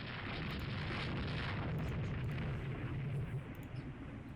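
A battleship blows up in the naval strategy game Rule The Waves 3, a long, loud rumbling blast with dense crackling debris that stays heavy for several seconds.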